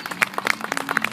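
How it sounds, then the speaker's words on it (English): Scattered applause from a small audience at a county fair after a Balintawak arnis martial arts demonstration, with separate claps popping in quick bursts, fairly close, no talking. "So let's give them a round of applause."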